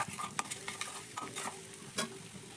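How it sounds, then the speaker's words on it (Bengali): Boiled mashed potato is stirred with spices in a pan, a quiet spatula scraping and knocking in a few short irregular strokes, close and soft, with a faint sizzle underneath. "মশলার সঙ্গে ভালো করে মিশিয়ে আলুটাকে একটু রান্না করে নিতে হবে।"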